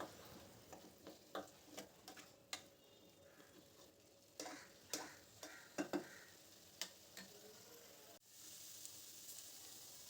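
Jackfruit curry with spices is stirred in a pan under a faint background sizzle, with a spoon knocking and scraping in irregular, quiet taps.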